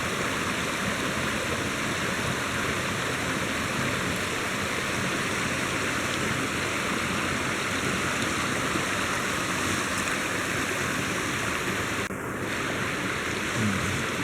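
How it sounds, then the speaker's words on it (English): Running water of a stream near Hamer Cave in Spring Mill State Park in November, a constant rushing wash that holds steady and fills the scene with no voices. "Just absorb that beautiful running water sound."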